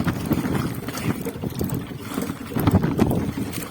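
Fishing boat engine running on open water while trolling, a steady low rumble with wind and splashing water, continuous and fairly loud throughout.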